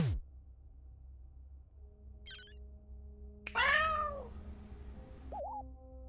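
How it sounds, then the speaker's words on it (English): A cat meows once in a clear, close, rising call, with a brief chirp just before it and a short squeaky note after, over a low steady background hum. "Cat says meow."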